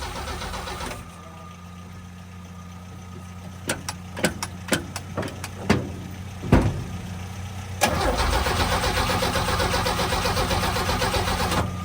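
A 1966 Chevrolet C10 truck engine cranks and sputters through several sharp, uneven firing bursts, then catches and settles into a loud, rough, continuous run close by.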